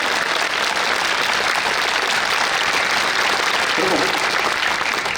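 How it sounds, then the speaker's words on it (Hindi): A large audience at a Hindi religious discourse in Gondia, Maharashtra claps loudly and steadily in a dense, continuous roar of applause, with a brief voice surfacing near the end. "अच्छा ताली बजाओ और सुनो, और जोर से बजाओ, और जोर से, और जोर से बजाते रहो।"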